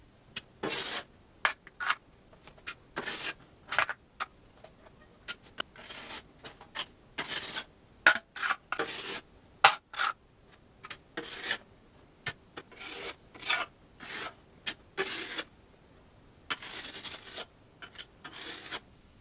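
Drywall compound goes on as a first coat with a putty knife, giving repeated scraping, rasping strokes on the wall surface, close and moderately loud, in an irregular rhythm with short pauses.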